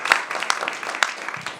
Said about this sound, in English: A round of applause, Nikhil.